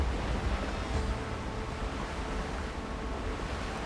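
Ocean water and surf washing around in a Pirates of the Caribbean video game, a loud, steady broadband rush of waves and wind that stays constant throughout with no clear breaks.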